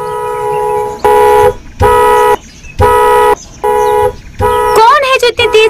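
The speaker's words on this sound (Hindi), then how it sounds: "कौन है जो इतनी तेज हॉर्न बजा रहा है?" Car horn blasting loud, close and insistent: five long sustained honks in a steady rhythm, then rapid broken toots as a voice shouts over them.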